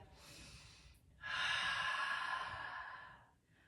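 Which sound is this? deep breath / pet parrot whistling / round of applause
deep breath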